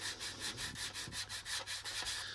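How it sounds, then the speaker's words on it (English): A sanding stick rubs rhythmically back and forth across a plastic model tank part, about ten close, steady scraping strokes with a dry, gritty texture. "with a better sanding stick than the little white one,"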